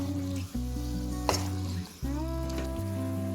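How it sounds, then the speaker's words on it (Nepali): Chicken do pyaza sautéing in a pan over a medium-high flame gives a steady, continuous sizzle close by, with steady tonal sounds running underneath and no talking. "अब र यसलाई म 5 मिनट जति यसरी नै भुट्छु मिडियम हाई फ्लेममा"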